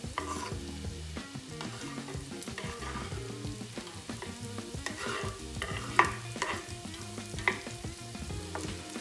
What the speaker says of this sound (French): on laisse griller encore un petit peu l'ail, ça paraît bien